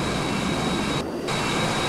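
A jet aircraft engine in the video game Battlefield 1942 gives a continuous, loud roaring rush with a brief dip in the upper hiss midway through the short stretch.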